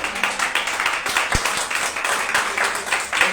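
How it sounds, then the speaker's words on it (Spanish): Applause from a church congregation during a Spanish-language sermon, steady dense clapping throughout, fairly loud and close, with a sharp tap partway through. "Denle ese aplauso al Señor, hermano."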